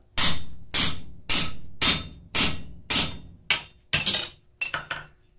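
Nine sharp metallic hammer strikes on hot steel ring out at a steady pace, close and loud, the last few coming quicker, as a blacksmith drifts a forged gauge.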